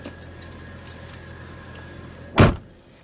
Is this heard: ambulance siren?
no